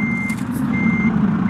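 A truck in the Euro Truck Simulator 2 driving game, on an Indonesian map mod, rumbles steadily with a loud low engine drone while a high reversing beep sounds in intermittent pulses.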